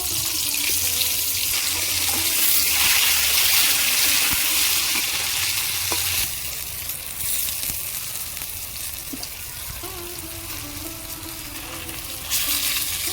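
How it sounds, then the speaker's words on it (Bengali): Pointed gourd (potol) fries in hot oil in a kadai, a steady loud sizzle that eases somewhat midway, with light utensil taps and no speech. "এবার আমি পটলগুলো ভেজে নেব"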